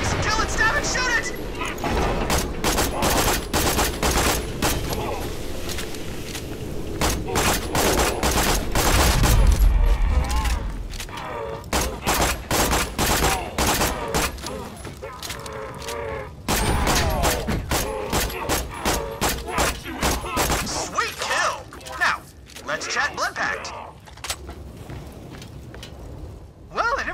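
Rapid volleys of gunfire from the video game Borderlands 2 fighting Vine Freaks in the Fight for Sanctuary DLC, loud bursts and booms mixed with game dialogue and a brief quieter gap midway.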